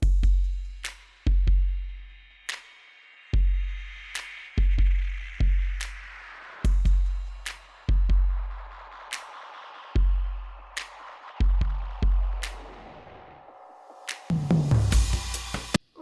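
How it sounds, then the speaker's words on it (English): Electronic drum kit and sampled percussion from an indie-pop love song playing solo, deep kick thumps and crisp snare and hat hits in a loose groove, with a swelling noisy sweep near the end, no voices. "So drums by themselves sound like this."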